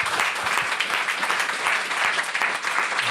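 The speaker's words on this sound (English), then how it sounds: "And can everybody please give them a round of applause," Audience at a live podcast recording giving a sustained round of applause, dense steady clapping from a crowd throughout.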